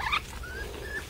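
A small puppy whimpering with thin, high whines, close and fairly loud against a faint background hum.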